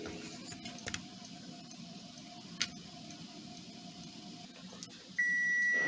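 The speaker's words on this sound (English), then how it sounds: "Alright, so we're going to turn the timer off." A kitchen timer goes off during pumpkin canning, a thin steady electronic tone starting near the end over quiet room noise with a few ticks and clicks before it.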